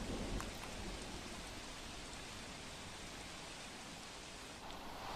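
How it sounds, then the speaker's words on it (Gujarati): Heavy monsoon rain falls over Bhavnagar, a steady unbroken hiss of downpour that stays faint and even throughout, with no voices. "આજ સવારથી સમયાંતરે ભારે અતિભારે વરસાદી ઝાપટા આસપાસના વિસ્તારોમાં આવી રહ્યા છે"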